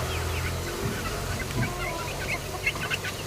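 Several chickens cluck and chatter at once, a busy flock nearby over a steady background murmur.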